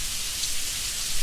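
Steady, dense rain falls in a continuous hiss of drops on surfaces, loud and even, with no voice.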